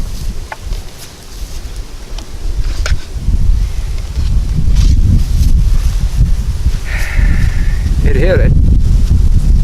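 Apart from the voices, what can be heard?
wind blowing into the microphone outdoors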